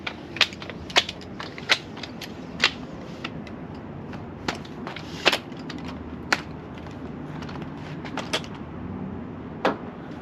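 An extending ladder is lifted in steps, giving a series of sharp, irregular metallic clicks as each section locks, fairly close over a quiet background.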